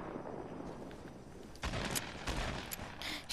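Small-gun fire in a video game: a low background rumble gives way to a cluster of sharp, fairly loud shots in quick succession near the end.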